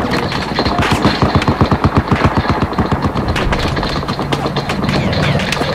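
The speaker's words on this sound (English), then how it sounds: "Someone's firing at us." Machine-gun fire in the Battlefield 4 video game: a loud, rapid rhythmic burst of evenly spaced shots rattles for a couple of seconds, followed by scattered heavier blasts and rumbling battlefield noise.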